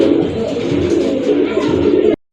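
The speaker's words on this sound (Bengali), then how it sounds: "খুবই সুন্দর এক জোড়া চিলা কবুতর।" A pair of Chila pigeons cooing up close, a loud, continuous low throaty burble that runs for about two seconds and then cuts off abruptly.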